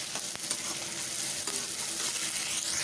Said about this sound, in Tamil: சேர்த்துட்டு பச்சை வாசனை போகிற வரைக்கும் நல்லா வதக்கி வச்சுக்குவோம்.